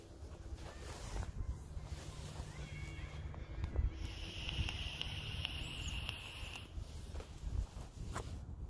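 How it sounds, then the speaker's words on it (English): Wind blowing outdoors on a cold winter catfishing outing, a soft steady rumble and gusting buffet on the microphone, with faint scattered knocks and rustles in between. "that wind's coming again"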